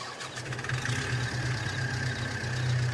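Tractor engine in Farming Simulator 22, a steady mid-pitched idle hum with a low droning tone that swells slightly, heard alone at moderate volume.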